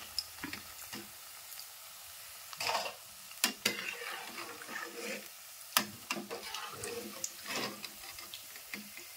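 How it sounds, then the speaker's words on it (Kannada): Bajji fritters fry in hot oil with a faint, continuous sizzle, broken by scattered clicks and scrapes of a spoon or ladle turning them in the pan. "ಚಂದ ಹೊತ್ನಾಗಿ ಫ್ರೈ ಮಾಡ್ಕೋಬೇಕ್ರಿ ಬಜ್ಜಿ"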